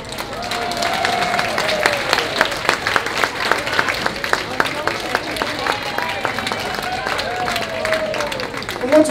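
Audience applause at a cabaret show with a one-man-band singer, a steady round of clapping from a modest crowd, moderately close, with a voice speaking intermittently over it.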